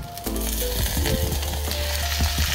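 Chicken pieces sizzling loudly in a pan of sautéed garlic, onion and ginger, a steady close frying hiss with bright crackles and occasional scraping stirs, no talking.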